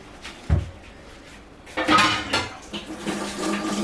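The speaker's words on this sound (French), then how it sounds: "Laissez installer le poêle." A frying pan is set down on a stove with a soft clunk, followed by metallic kitchen clatter and rattling of pans and utensils nearby, while cooking paella-style rice.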